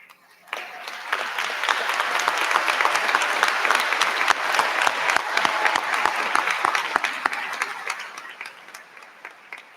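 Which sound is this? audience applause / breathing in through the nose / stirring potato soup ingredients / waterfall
audience applause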